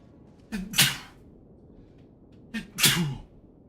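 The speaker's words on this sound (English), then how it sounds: "Oh, I have to sneeze so much today." Two sharp sneezes, each with a quick inhaled lead-in, about two seconds apart, close and fairly loud against a quiet background.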